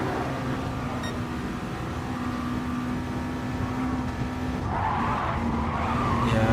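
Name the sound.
race car skidding onto the grass in a racing video game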